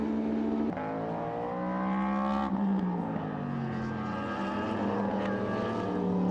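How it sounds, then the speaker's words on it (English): A V8 race car engine roars during a Speed Euroseries race at the Montmeló circuit, a loud, steady, continuous drone with gliding pitch sweeps as the car works through the gears, no talk over it. "It certainly sounds like a V8 in the background"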